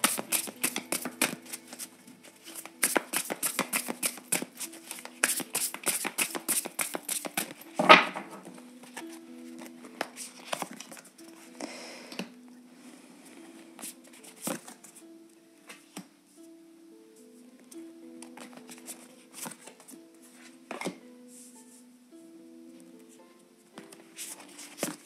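Tarot cards shuffled by hand in a quick flurry of dense riffling, then slower scattered slaps and taps as cards are laid down, close and fairly quiet with no talking.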